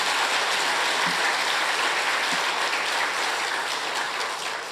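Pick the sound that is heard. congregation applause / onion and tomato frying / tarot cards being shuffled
congregation applause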